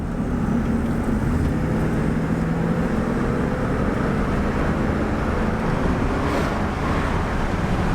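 A 1996 Chevrolet C/K 1500 Silverado pickup with a 5.7-liter engine accelerates on the road, its steady engine drone and road rumble loud and continuous throughout, with no voices.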